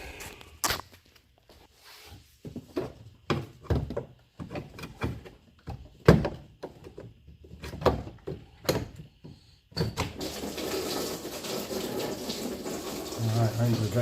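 Coolant from a 2015 Mini Cooper Countryman S pours steadily into a drain bucket during a thermostat housing job, a continuous splashing stream starting partway through after scattered clunks and handling noises.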